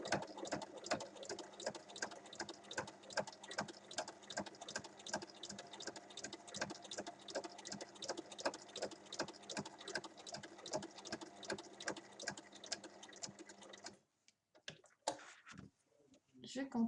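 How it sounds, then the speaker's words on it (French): A sewing machine stitches a fabric book holder with a rapid, regular ticking of the needle that holds steady and close, then cuts off near the end, leaving a few scattered handling knocks. "Et je repique de l'autre côté pour redescendre."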